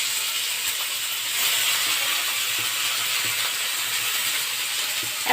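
Onions dropped into hot oil in a pan hiss and sizzle steadily, a bright, even frying noise that stays fairly loud throughout with small crackles scattered over it.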